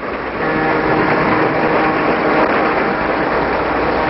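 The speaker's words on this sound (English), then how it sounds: "A freight train can't put itself together or take itself apart." Freight train cars roll through a rail yard with a loud, continuous rumbling clatter that stays level throughout. The sound is muffled and band-limited, like an old film soundtrack.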